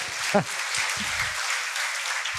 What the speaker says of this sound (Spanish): Yo creo que el aplauso está bajito para tremenda charla.